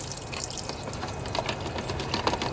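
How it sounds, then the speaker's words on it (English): Water rinses baking soda off a cleaned battery wire connector on a Craftsman riding lawnmower, a steady close splashing wash that runs the whole time with no talking. "I'm just going to make sure to rinse everything here"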